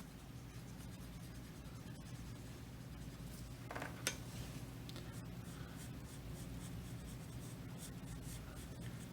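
Graphite pencil shading on paper in small circular motions while darkening the eye area of a drawing, a soft continuous scratchy rubbing that stays steady and close throughout, with no talking.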